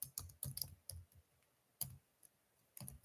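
Typing on a computer keyboard, with close, quiet clusters of crisp key clicks in irregular bursts separated by short pauses, heard alone with no talking.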